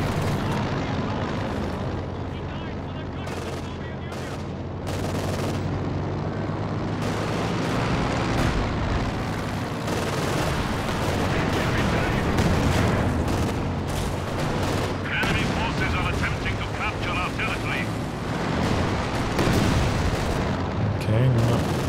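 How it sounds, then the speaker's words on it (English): A Katyusha rocket barrage in Company of Heroes 2 roars through a dense stretch of booms, whooshes and rapid explosions amid ongoing battlefield gunfire, loud and sustained. "not the best Katyusha barrage, but reasonable targeting on it"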